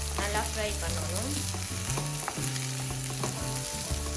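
Sliced onions sautéing in a pan for a kebab sandwich, with a continuous close sizzle and soft scraping from stirring, heard alone.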